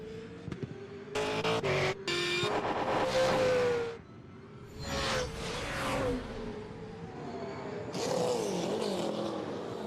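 V8 Supercars in the 2015 Dunlop Series race at Winton rev and rumble on the grid, with loud bursts of engine noise swelling and fading as cars move nearby, and no talking.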